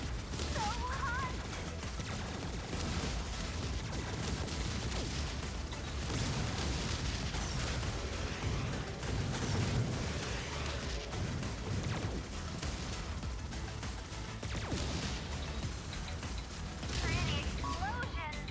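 Continuous bursts of explosions and crashing blasts from the video game Subverse, loud and dense throughout, with a voice talking over the chaos.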